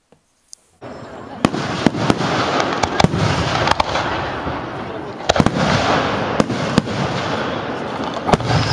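A fireworks display sounds as a dense, continuous crackle with repeated sharp pops and bangs scattered throughout, with a voice speaking.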